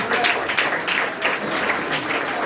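An audience claps steadily at a school's Kamaraj birthday celebration debate program, a dense, even patter of many hands that stays fairly loud for the whole stretch, with no one talking over it.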